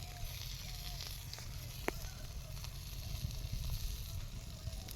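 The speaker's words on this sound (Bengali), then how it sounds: "মাছটা মানে ফ্রাই হয়ে গেছে মনে হয়" Fish frying in a pan gives off a steady, moderately faint sizzle and hiss throughout, with a few small pops breaking through the continuous crackle.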